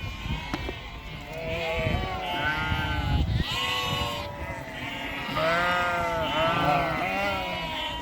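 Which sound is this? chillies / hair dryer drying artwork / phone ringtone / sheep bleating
sheep bleating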